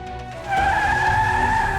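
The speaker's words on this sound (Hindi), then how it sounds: "अरे गाड़ी की आवाज आ रही है" A car pulls up outside a village house, its engine and tyre noise swelling loudly after a brief, quieter start and holding steady close by, with no one speaking.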